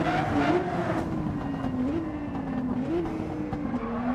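Race cars in the Gran Turismo 7 driving game rev and run at a steady loud pitch, the engine note rising and falling through gear changes for the whole stretch, with faint tyre noise and no talking.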